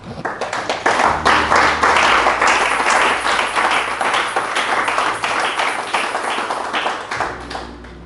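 Church congregation clapping and applauding in praise, loud and dense with many hands, rising quickly and sustained for several seconds before tapering off at the end.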